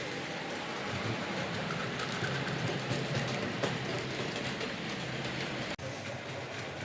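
A small second-hand model locomotive runs along its track, giving a steady close rolling rumble and faint rhythmic clatter that continues evenly throughout.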